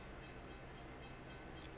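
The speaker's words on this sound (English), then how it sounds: "and now we hear the train" A train passes at a distance with a steady broadband rumble and faint rhythmic clanks recurring about every quarter second, like repeated hammer strokes, with no whistle and no speech.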